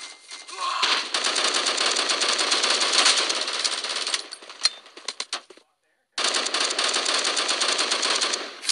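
Rapid automatic gunfire with heavy recoil in the video game Bullet Force, sustained bursts of fast shots, then a brief silence before another long burst.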